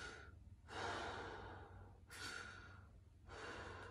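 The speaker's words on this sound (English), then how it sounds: "Breathe deeply." Slow, deep breaths come quietly and close, three long inhales and exhales with soft airy rushes in an even rhythm, alone with no talking.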